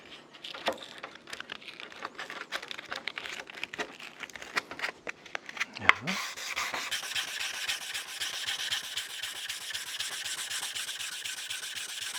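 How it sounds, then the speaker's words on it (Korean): Hand sanding with 150-grit sandpaper gives rapid, close back-and-forth rasping strokes in a quick rhythm, then settles into a denser continuous scratchy rubbing at a steady moderate level. "그 다음 단계 150, 150짜리 사포를 또 하겠습니다"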